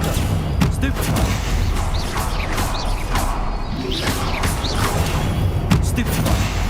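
Spell-casting bursts from the wizarding game Hogwarts Legacy, with a Stupefy stun spell among a dense, continuous layer of whooshes, crashes and impacts during combat; a voice calls out spell names over the clamour.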